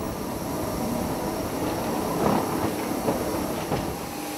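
An electric rack train of the Jungfrau Railway in the Swiss Alps runs along, giving a steady loud rumble with faint wheel clicks and squeals riding on it. The sound stays even throughout and no voices are heard.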